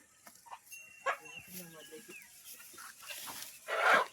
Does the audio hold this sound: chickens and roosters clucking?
yes